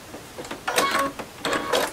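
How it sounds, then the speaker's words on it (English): A sewing machine stitches a quilt block for triangle geese, making one stitch then a back stitch: two short bursts of quick mechanical whirring and clicking, close and fairly quiet with no talking. "I'm going to lower my needle, and I'm going to make one stitch, and then a back stitch"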